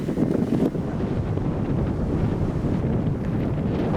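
A hot, strong sandstorm wind sweeps across the Egyptian desert, roaring steadily and loudly into the microphone with continuous gusty buffeting and no pauses.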